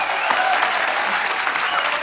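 Sustained applause from a comedy TV show studio audience, steady and loud from start to finish.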